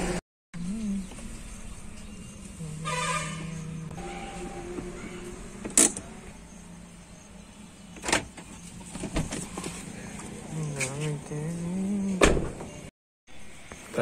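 A car's power window motor whirs as the glass slides open, with several short mechanical clunks and door-like thumps around it; no speech over it.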